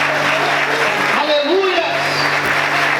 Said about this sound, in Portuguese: Você pode aplaudir e exaltar a Deus nessa noite.